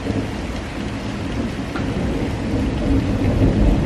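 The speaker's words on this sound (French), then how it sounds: "à l'extérieur c'est plus possible avec le bruit de la pluie" Heavy rain outside an apartment in Istanbul, a loud continuous roar of downpour with deep rumbling thunder underneath that swells toward the end, no voices.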